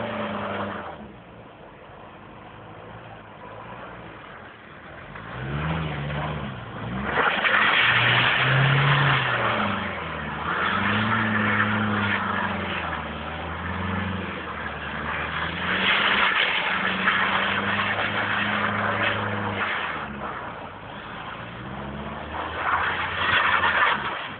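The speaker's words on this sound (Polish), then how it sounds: "Jak się nie ma co się robi, to się bączki kręci." A DeLorean spins donuts in winter snow, its engine revving loudly and rising and falling in sweeping pitch as it circles, heard close with no voices.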